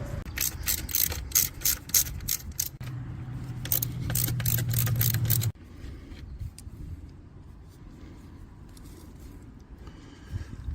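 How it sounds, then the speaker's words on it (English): Screws being unscrewed at the oil drain of a John Deere 325/328 skid steer loader, a rapid ratcheting clicking burst for several seconds, then quieter fiddling and handling noises close by. "You got to unscrew these two screws."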